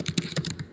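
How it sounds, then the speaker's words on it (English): Quick, uneven clatter of keys typed on a computer keyboard, close and fairly quiet, with no voices over it. "I've been typing so bad."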